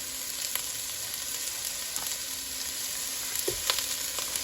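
Butter sizzles steadily in a hot pan at the start of a Maryland oyster stew, a constant close-up crackling hiss with a few small pops and no voices.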